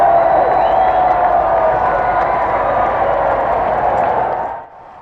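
A large crowd cheers and applauds a royal couple's kiss on a palace balcony, a dense, sustained roar of clapping and shouting that stays loud throughout before dropping away abruptly near the end.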